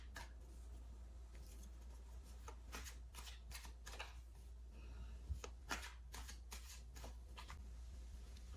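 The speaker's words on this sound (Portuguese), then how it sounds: "Vai começar embaralhando as cartas." Tarot cards being shuffled by hand in a quiet room, a steady run of soft riffling and slapping bursts that repeats for several seconds with no talk.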